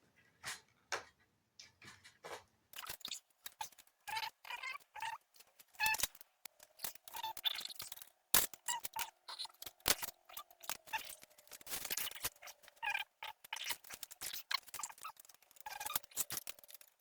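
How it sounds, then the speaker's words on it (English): Hurricane metal shears snipping through metal, a run of sharp, close clicking cuts and snaps that come in irregular bursts over the whole stretch, with no talking. "these are pretty good for cutting metal. They're just called Hurricane."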